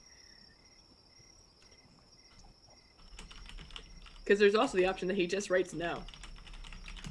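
Light clicking of keys on a computer keyboard runs beneath a faint high insect-like whine, then people start talking and the typing continues softly under their voices.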